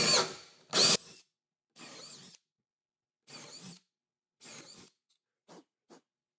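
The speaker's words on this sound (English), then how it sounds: "So, using a bigger drill bit." A power drill bores larger pilot holes for T-nuts in a series of short bursts: one long run, then several brief whirring pulses separated by silence, close and clear with no talking.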